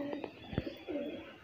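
Close, soft cooing from a dyed pigeon held in hand, a few low throaty pulses with a brief thump midway, over steady background noise.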